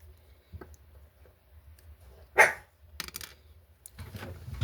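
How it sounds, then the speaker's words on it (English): A pet dog barks indoors during a quiet model-building session, a few separate, sudden barks with a loud sharp one in the middle, over near silence and light handling sounds. "Dog's being a little loud"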